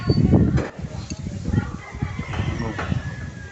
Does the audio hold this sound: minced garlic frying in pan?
no